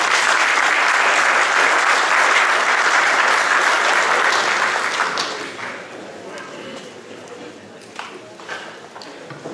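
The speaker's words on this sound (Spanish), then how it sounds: "Le recibimos con un aplauso" Audience applause greeting the economist Enrique Cornejo as he takes the stage at a political party policy event, loud and dense at first, then thinning and fading to scattered claps after about five seconds.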